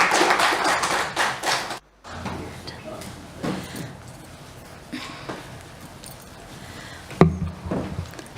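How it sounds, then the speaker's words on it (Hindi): Audience applause welcoming a speaker in a large hall, a burst of many clapping hands that cuts off abruptly, followed by scattered softer claps, shuffling and a sharp knock. "जोरदार तालियों के साथ स्वागत।"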